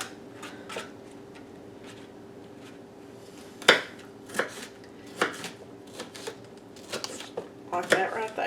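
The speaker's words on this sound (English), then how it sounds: "it doesn't take just a minute to dice up peppers" Bell peppers diced with a knife on a cutting board, giving sharp irregular chops that speed into quick bursts toward the end, close by, with a person talking intermittently.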